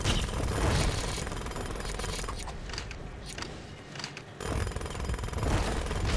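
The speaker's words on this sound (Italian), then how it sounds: "Ma è infinito sto trapano?" A drill smashing through bricks in The LEGO Movie Videogame makes a loud continuous grinding, rattling clatter that briefly thins out midway and then returns at full strength.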